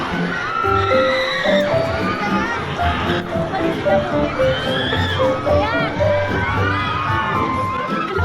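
Crowd at Enchanted Kingdom amusement park at night screaming and shouting, with excited shrieks and whoops rising from riders over a busy, continuous din; voices are mixed throughout.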